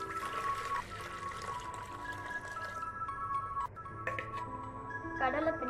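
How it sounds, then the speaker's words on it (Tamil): A cup of water poured into a lidded bucket, a steady splashing trickle running through most of the clip beneath faint voices and tonal background. "அந்த பக்கெட்ல ஒரு கப்பு தண்ணி எடுத்து ஊற்றிக்கோங்க"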